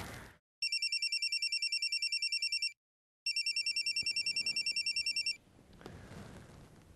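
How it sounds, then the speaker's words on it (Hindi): A telephone rings in two long trilling bursts separated by a short pause, followed by faint background noise. "तेरा फोन बज रहा है।"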